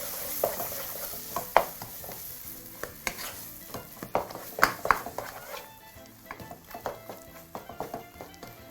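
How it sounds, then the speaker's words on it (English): Kenyan mukimo mixture sizzles and fries in a pan while a utensil stirs and scrapes against it in irregular clatters, close up. "giving you just a few minutes to finish frying off your Mukimo mixture"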